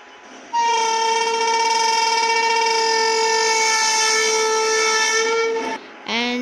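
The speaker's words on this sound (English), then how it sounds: "The horn is the BAP 7, their horn I will sound." BAP 7 train horn on an express train in the Trainz Simulator game sounds one long, loud, steady chord-like blast lasting about five seconds, followed by a brief second toot.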